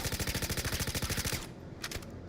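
A rapid full-auto burst of video game gunfire, tested with a Virpil joystick, rattles out in an even stream of close, loud shots for about a second and a half, followed by a brief fainter shot.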